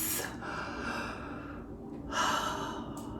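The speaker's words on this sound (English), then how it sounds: "Take a breath." A person breathing deeply, with a long, audible inhale through the nose, then a pause and a second sharp, breathy intake, close to the microphone.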